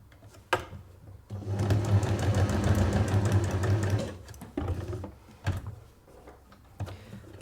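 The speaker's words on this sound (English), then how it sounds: "Sew down this edge. And sew again diagonally at that end." A sewing machine stitches a zipped make-up bag in a fast, steady whirring burst lasting a few seconds, framed by clicks and knocks of handling the fabric and machine.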